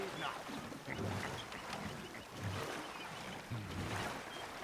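Water sloshes and churns steadily around a moving boat in Red Dead Redemption II, with low rumbling surges every second or so and a constant watery hiss.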